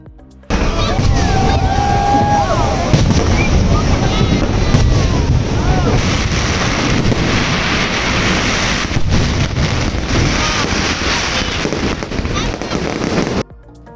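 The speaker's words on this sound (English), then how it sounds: "the fireworks started" Skyrocket fireworks bursting over the Rhine Falls in Switzerland, a steady loud barrage of crackling explosions running for most of the clip, mixed with rushing waterfall water, wind buffeting and crowd voices.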